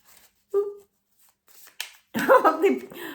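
Playing cards are shuffled in short riffling bursts, close by, separated by pauses, with a voice speaking briefly between them.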